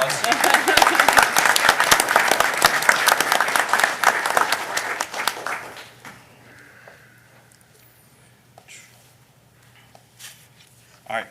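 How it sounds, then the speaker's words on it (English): Audience applause at a Union Township board of trustees meeting, steady and dense clapping for about six seconds before thinning out into quiet room tone with a few scattered sounds. "give them a round of applause"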